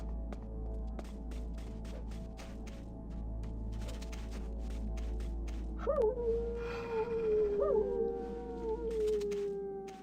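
Dogs howl in Metal Gear Solid: The Twin Snakes, rising and wavering tones that swell in the second half over a steady low game rumble and scattered clicks.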